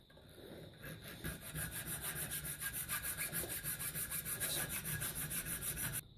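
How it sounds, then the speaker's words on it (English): A thin metal file rasps back and forth across a steel knife blank in steady, even strokes, close and fairly loud, with no voices. "Thin file to start."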